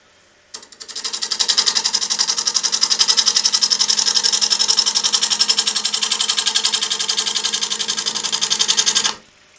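Electric pottery wheel spinning fast at a speed setting around 600 while a bowl is thrown: a steady close motor whir with rapid rhythmic ticking that starts abruptly, holds even and cuts off sharply.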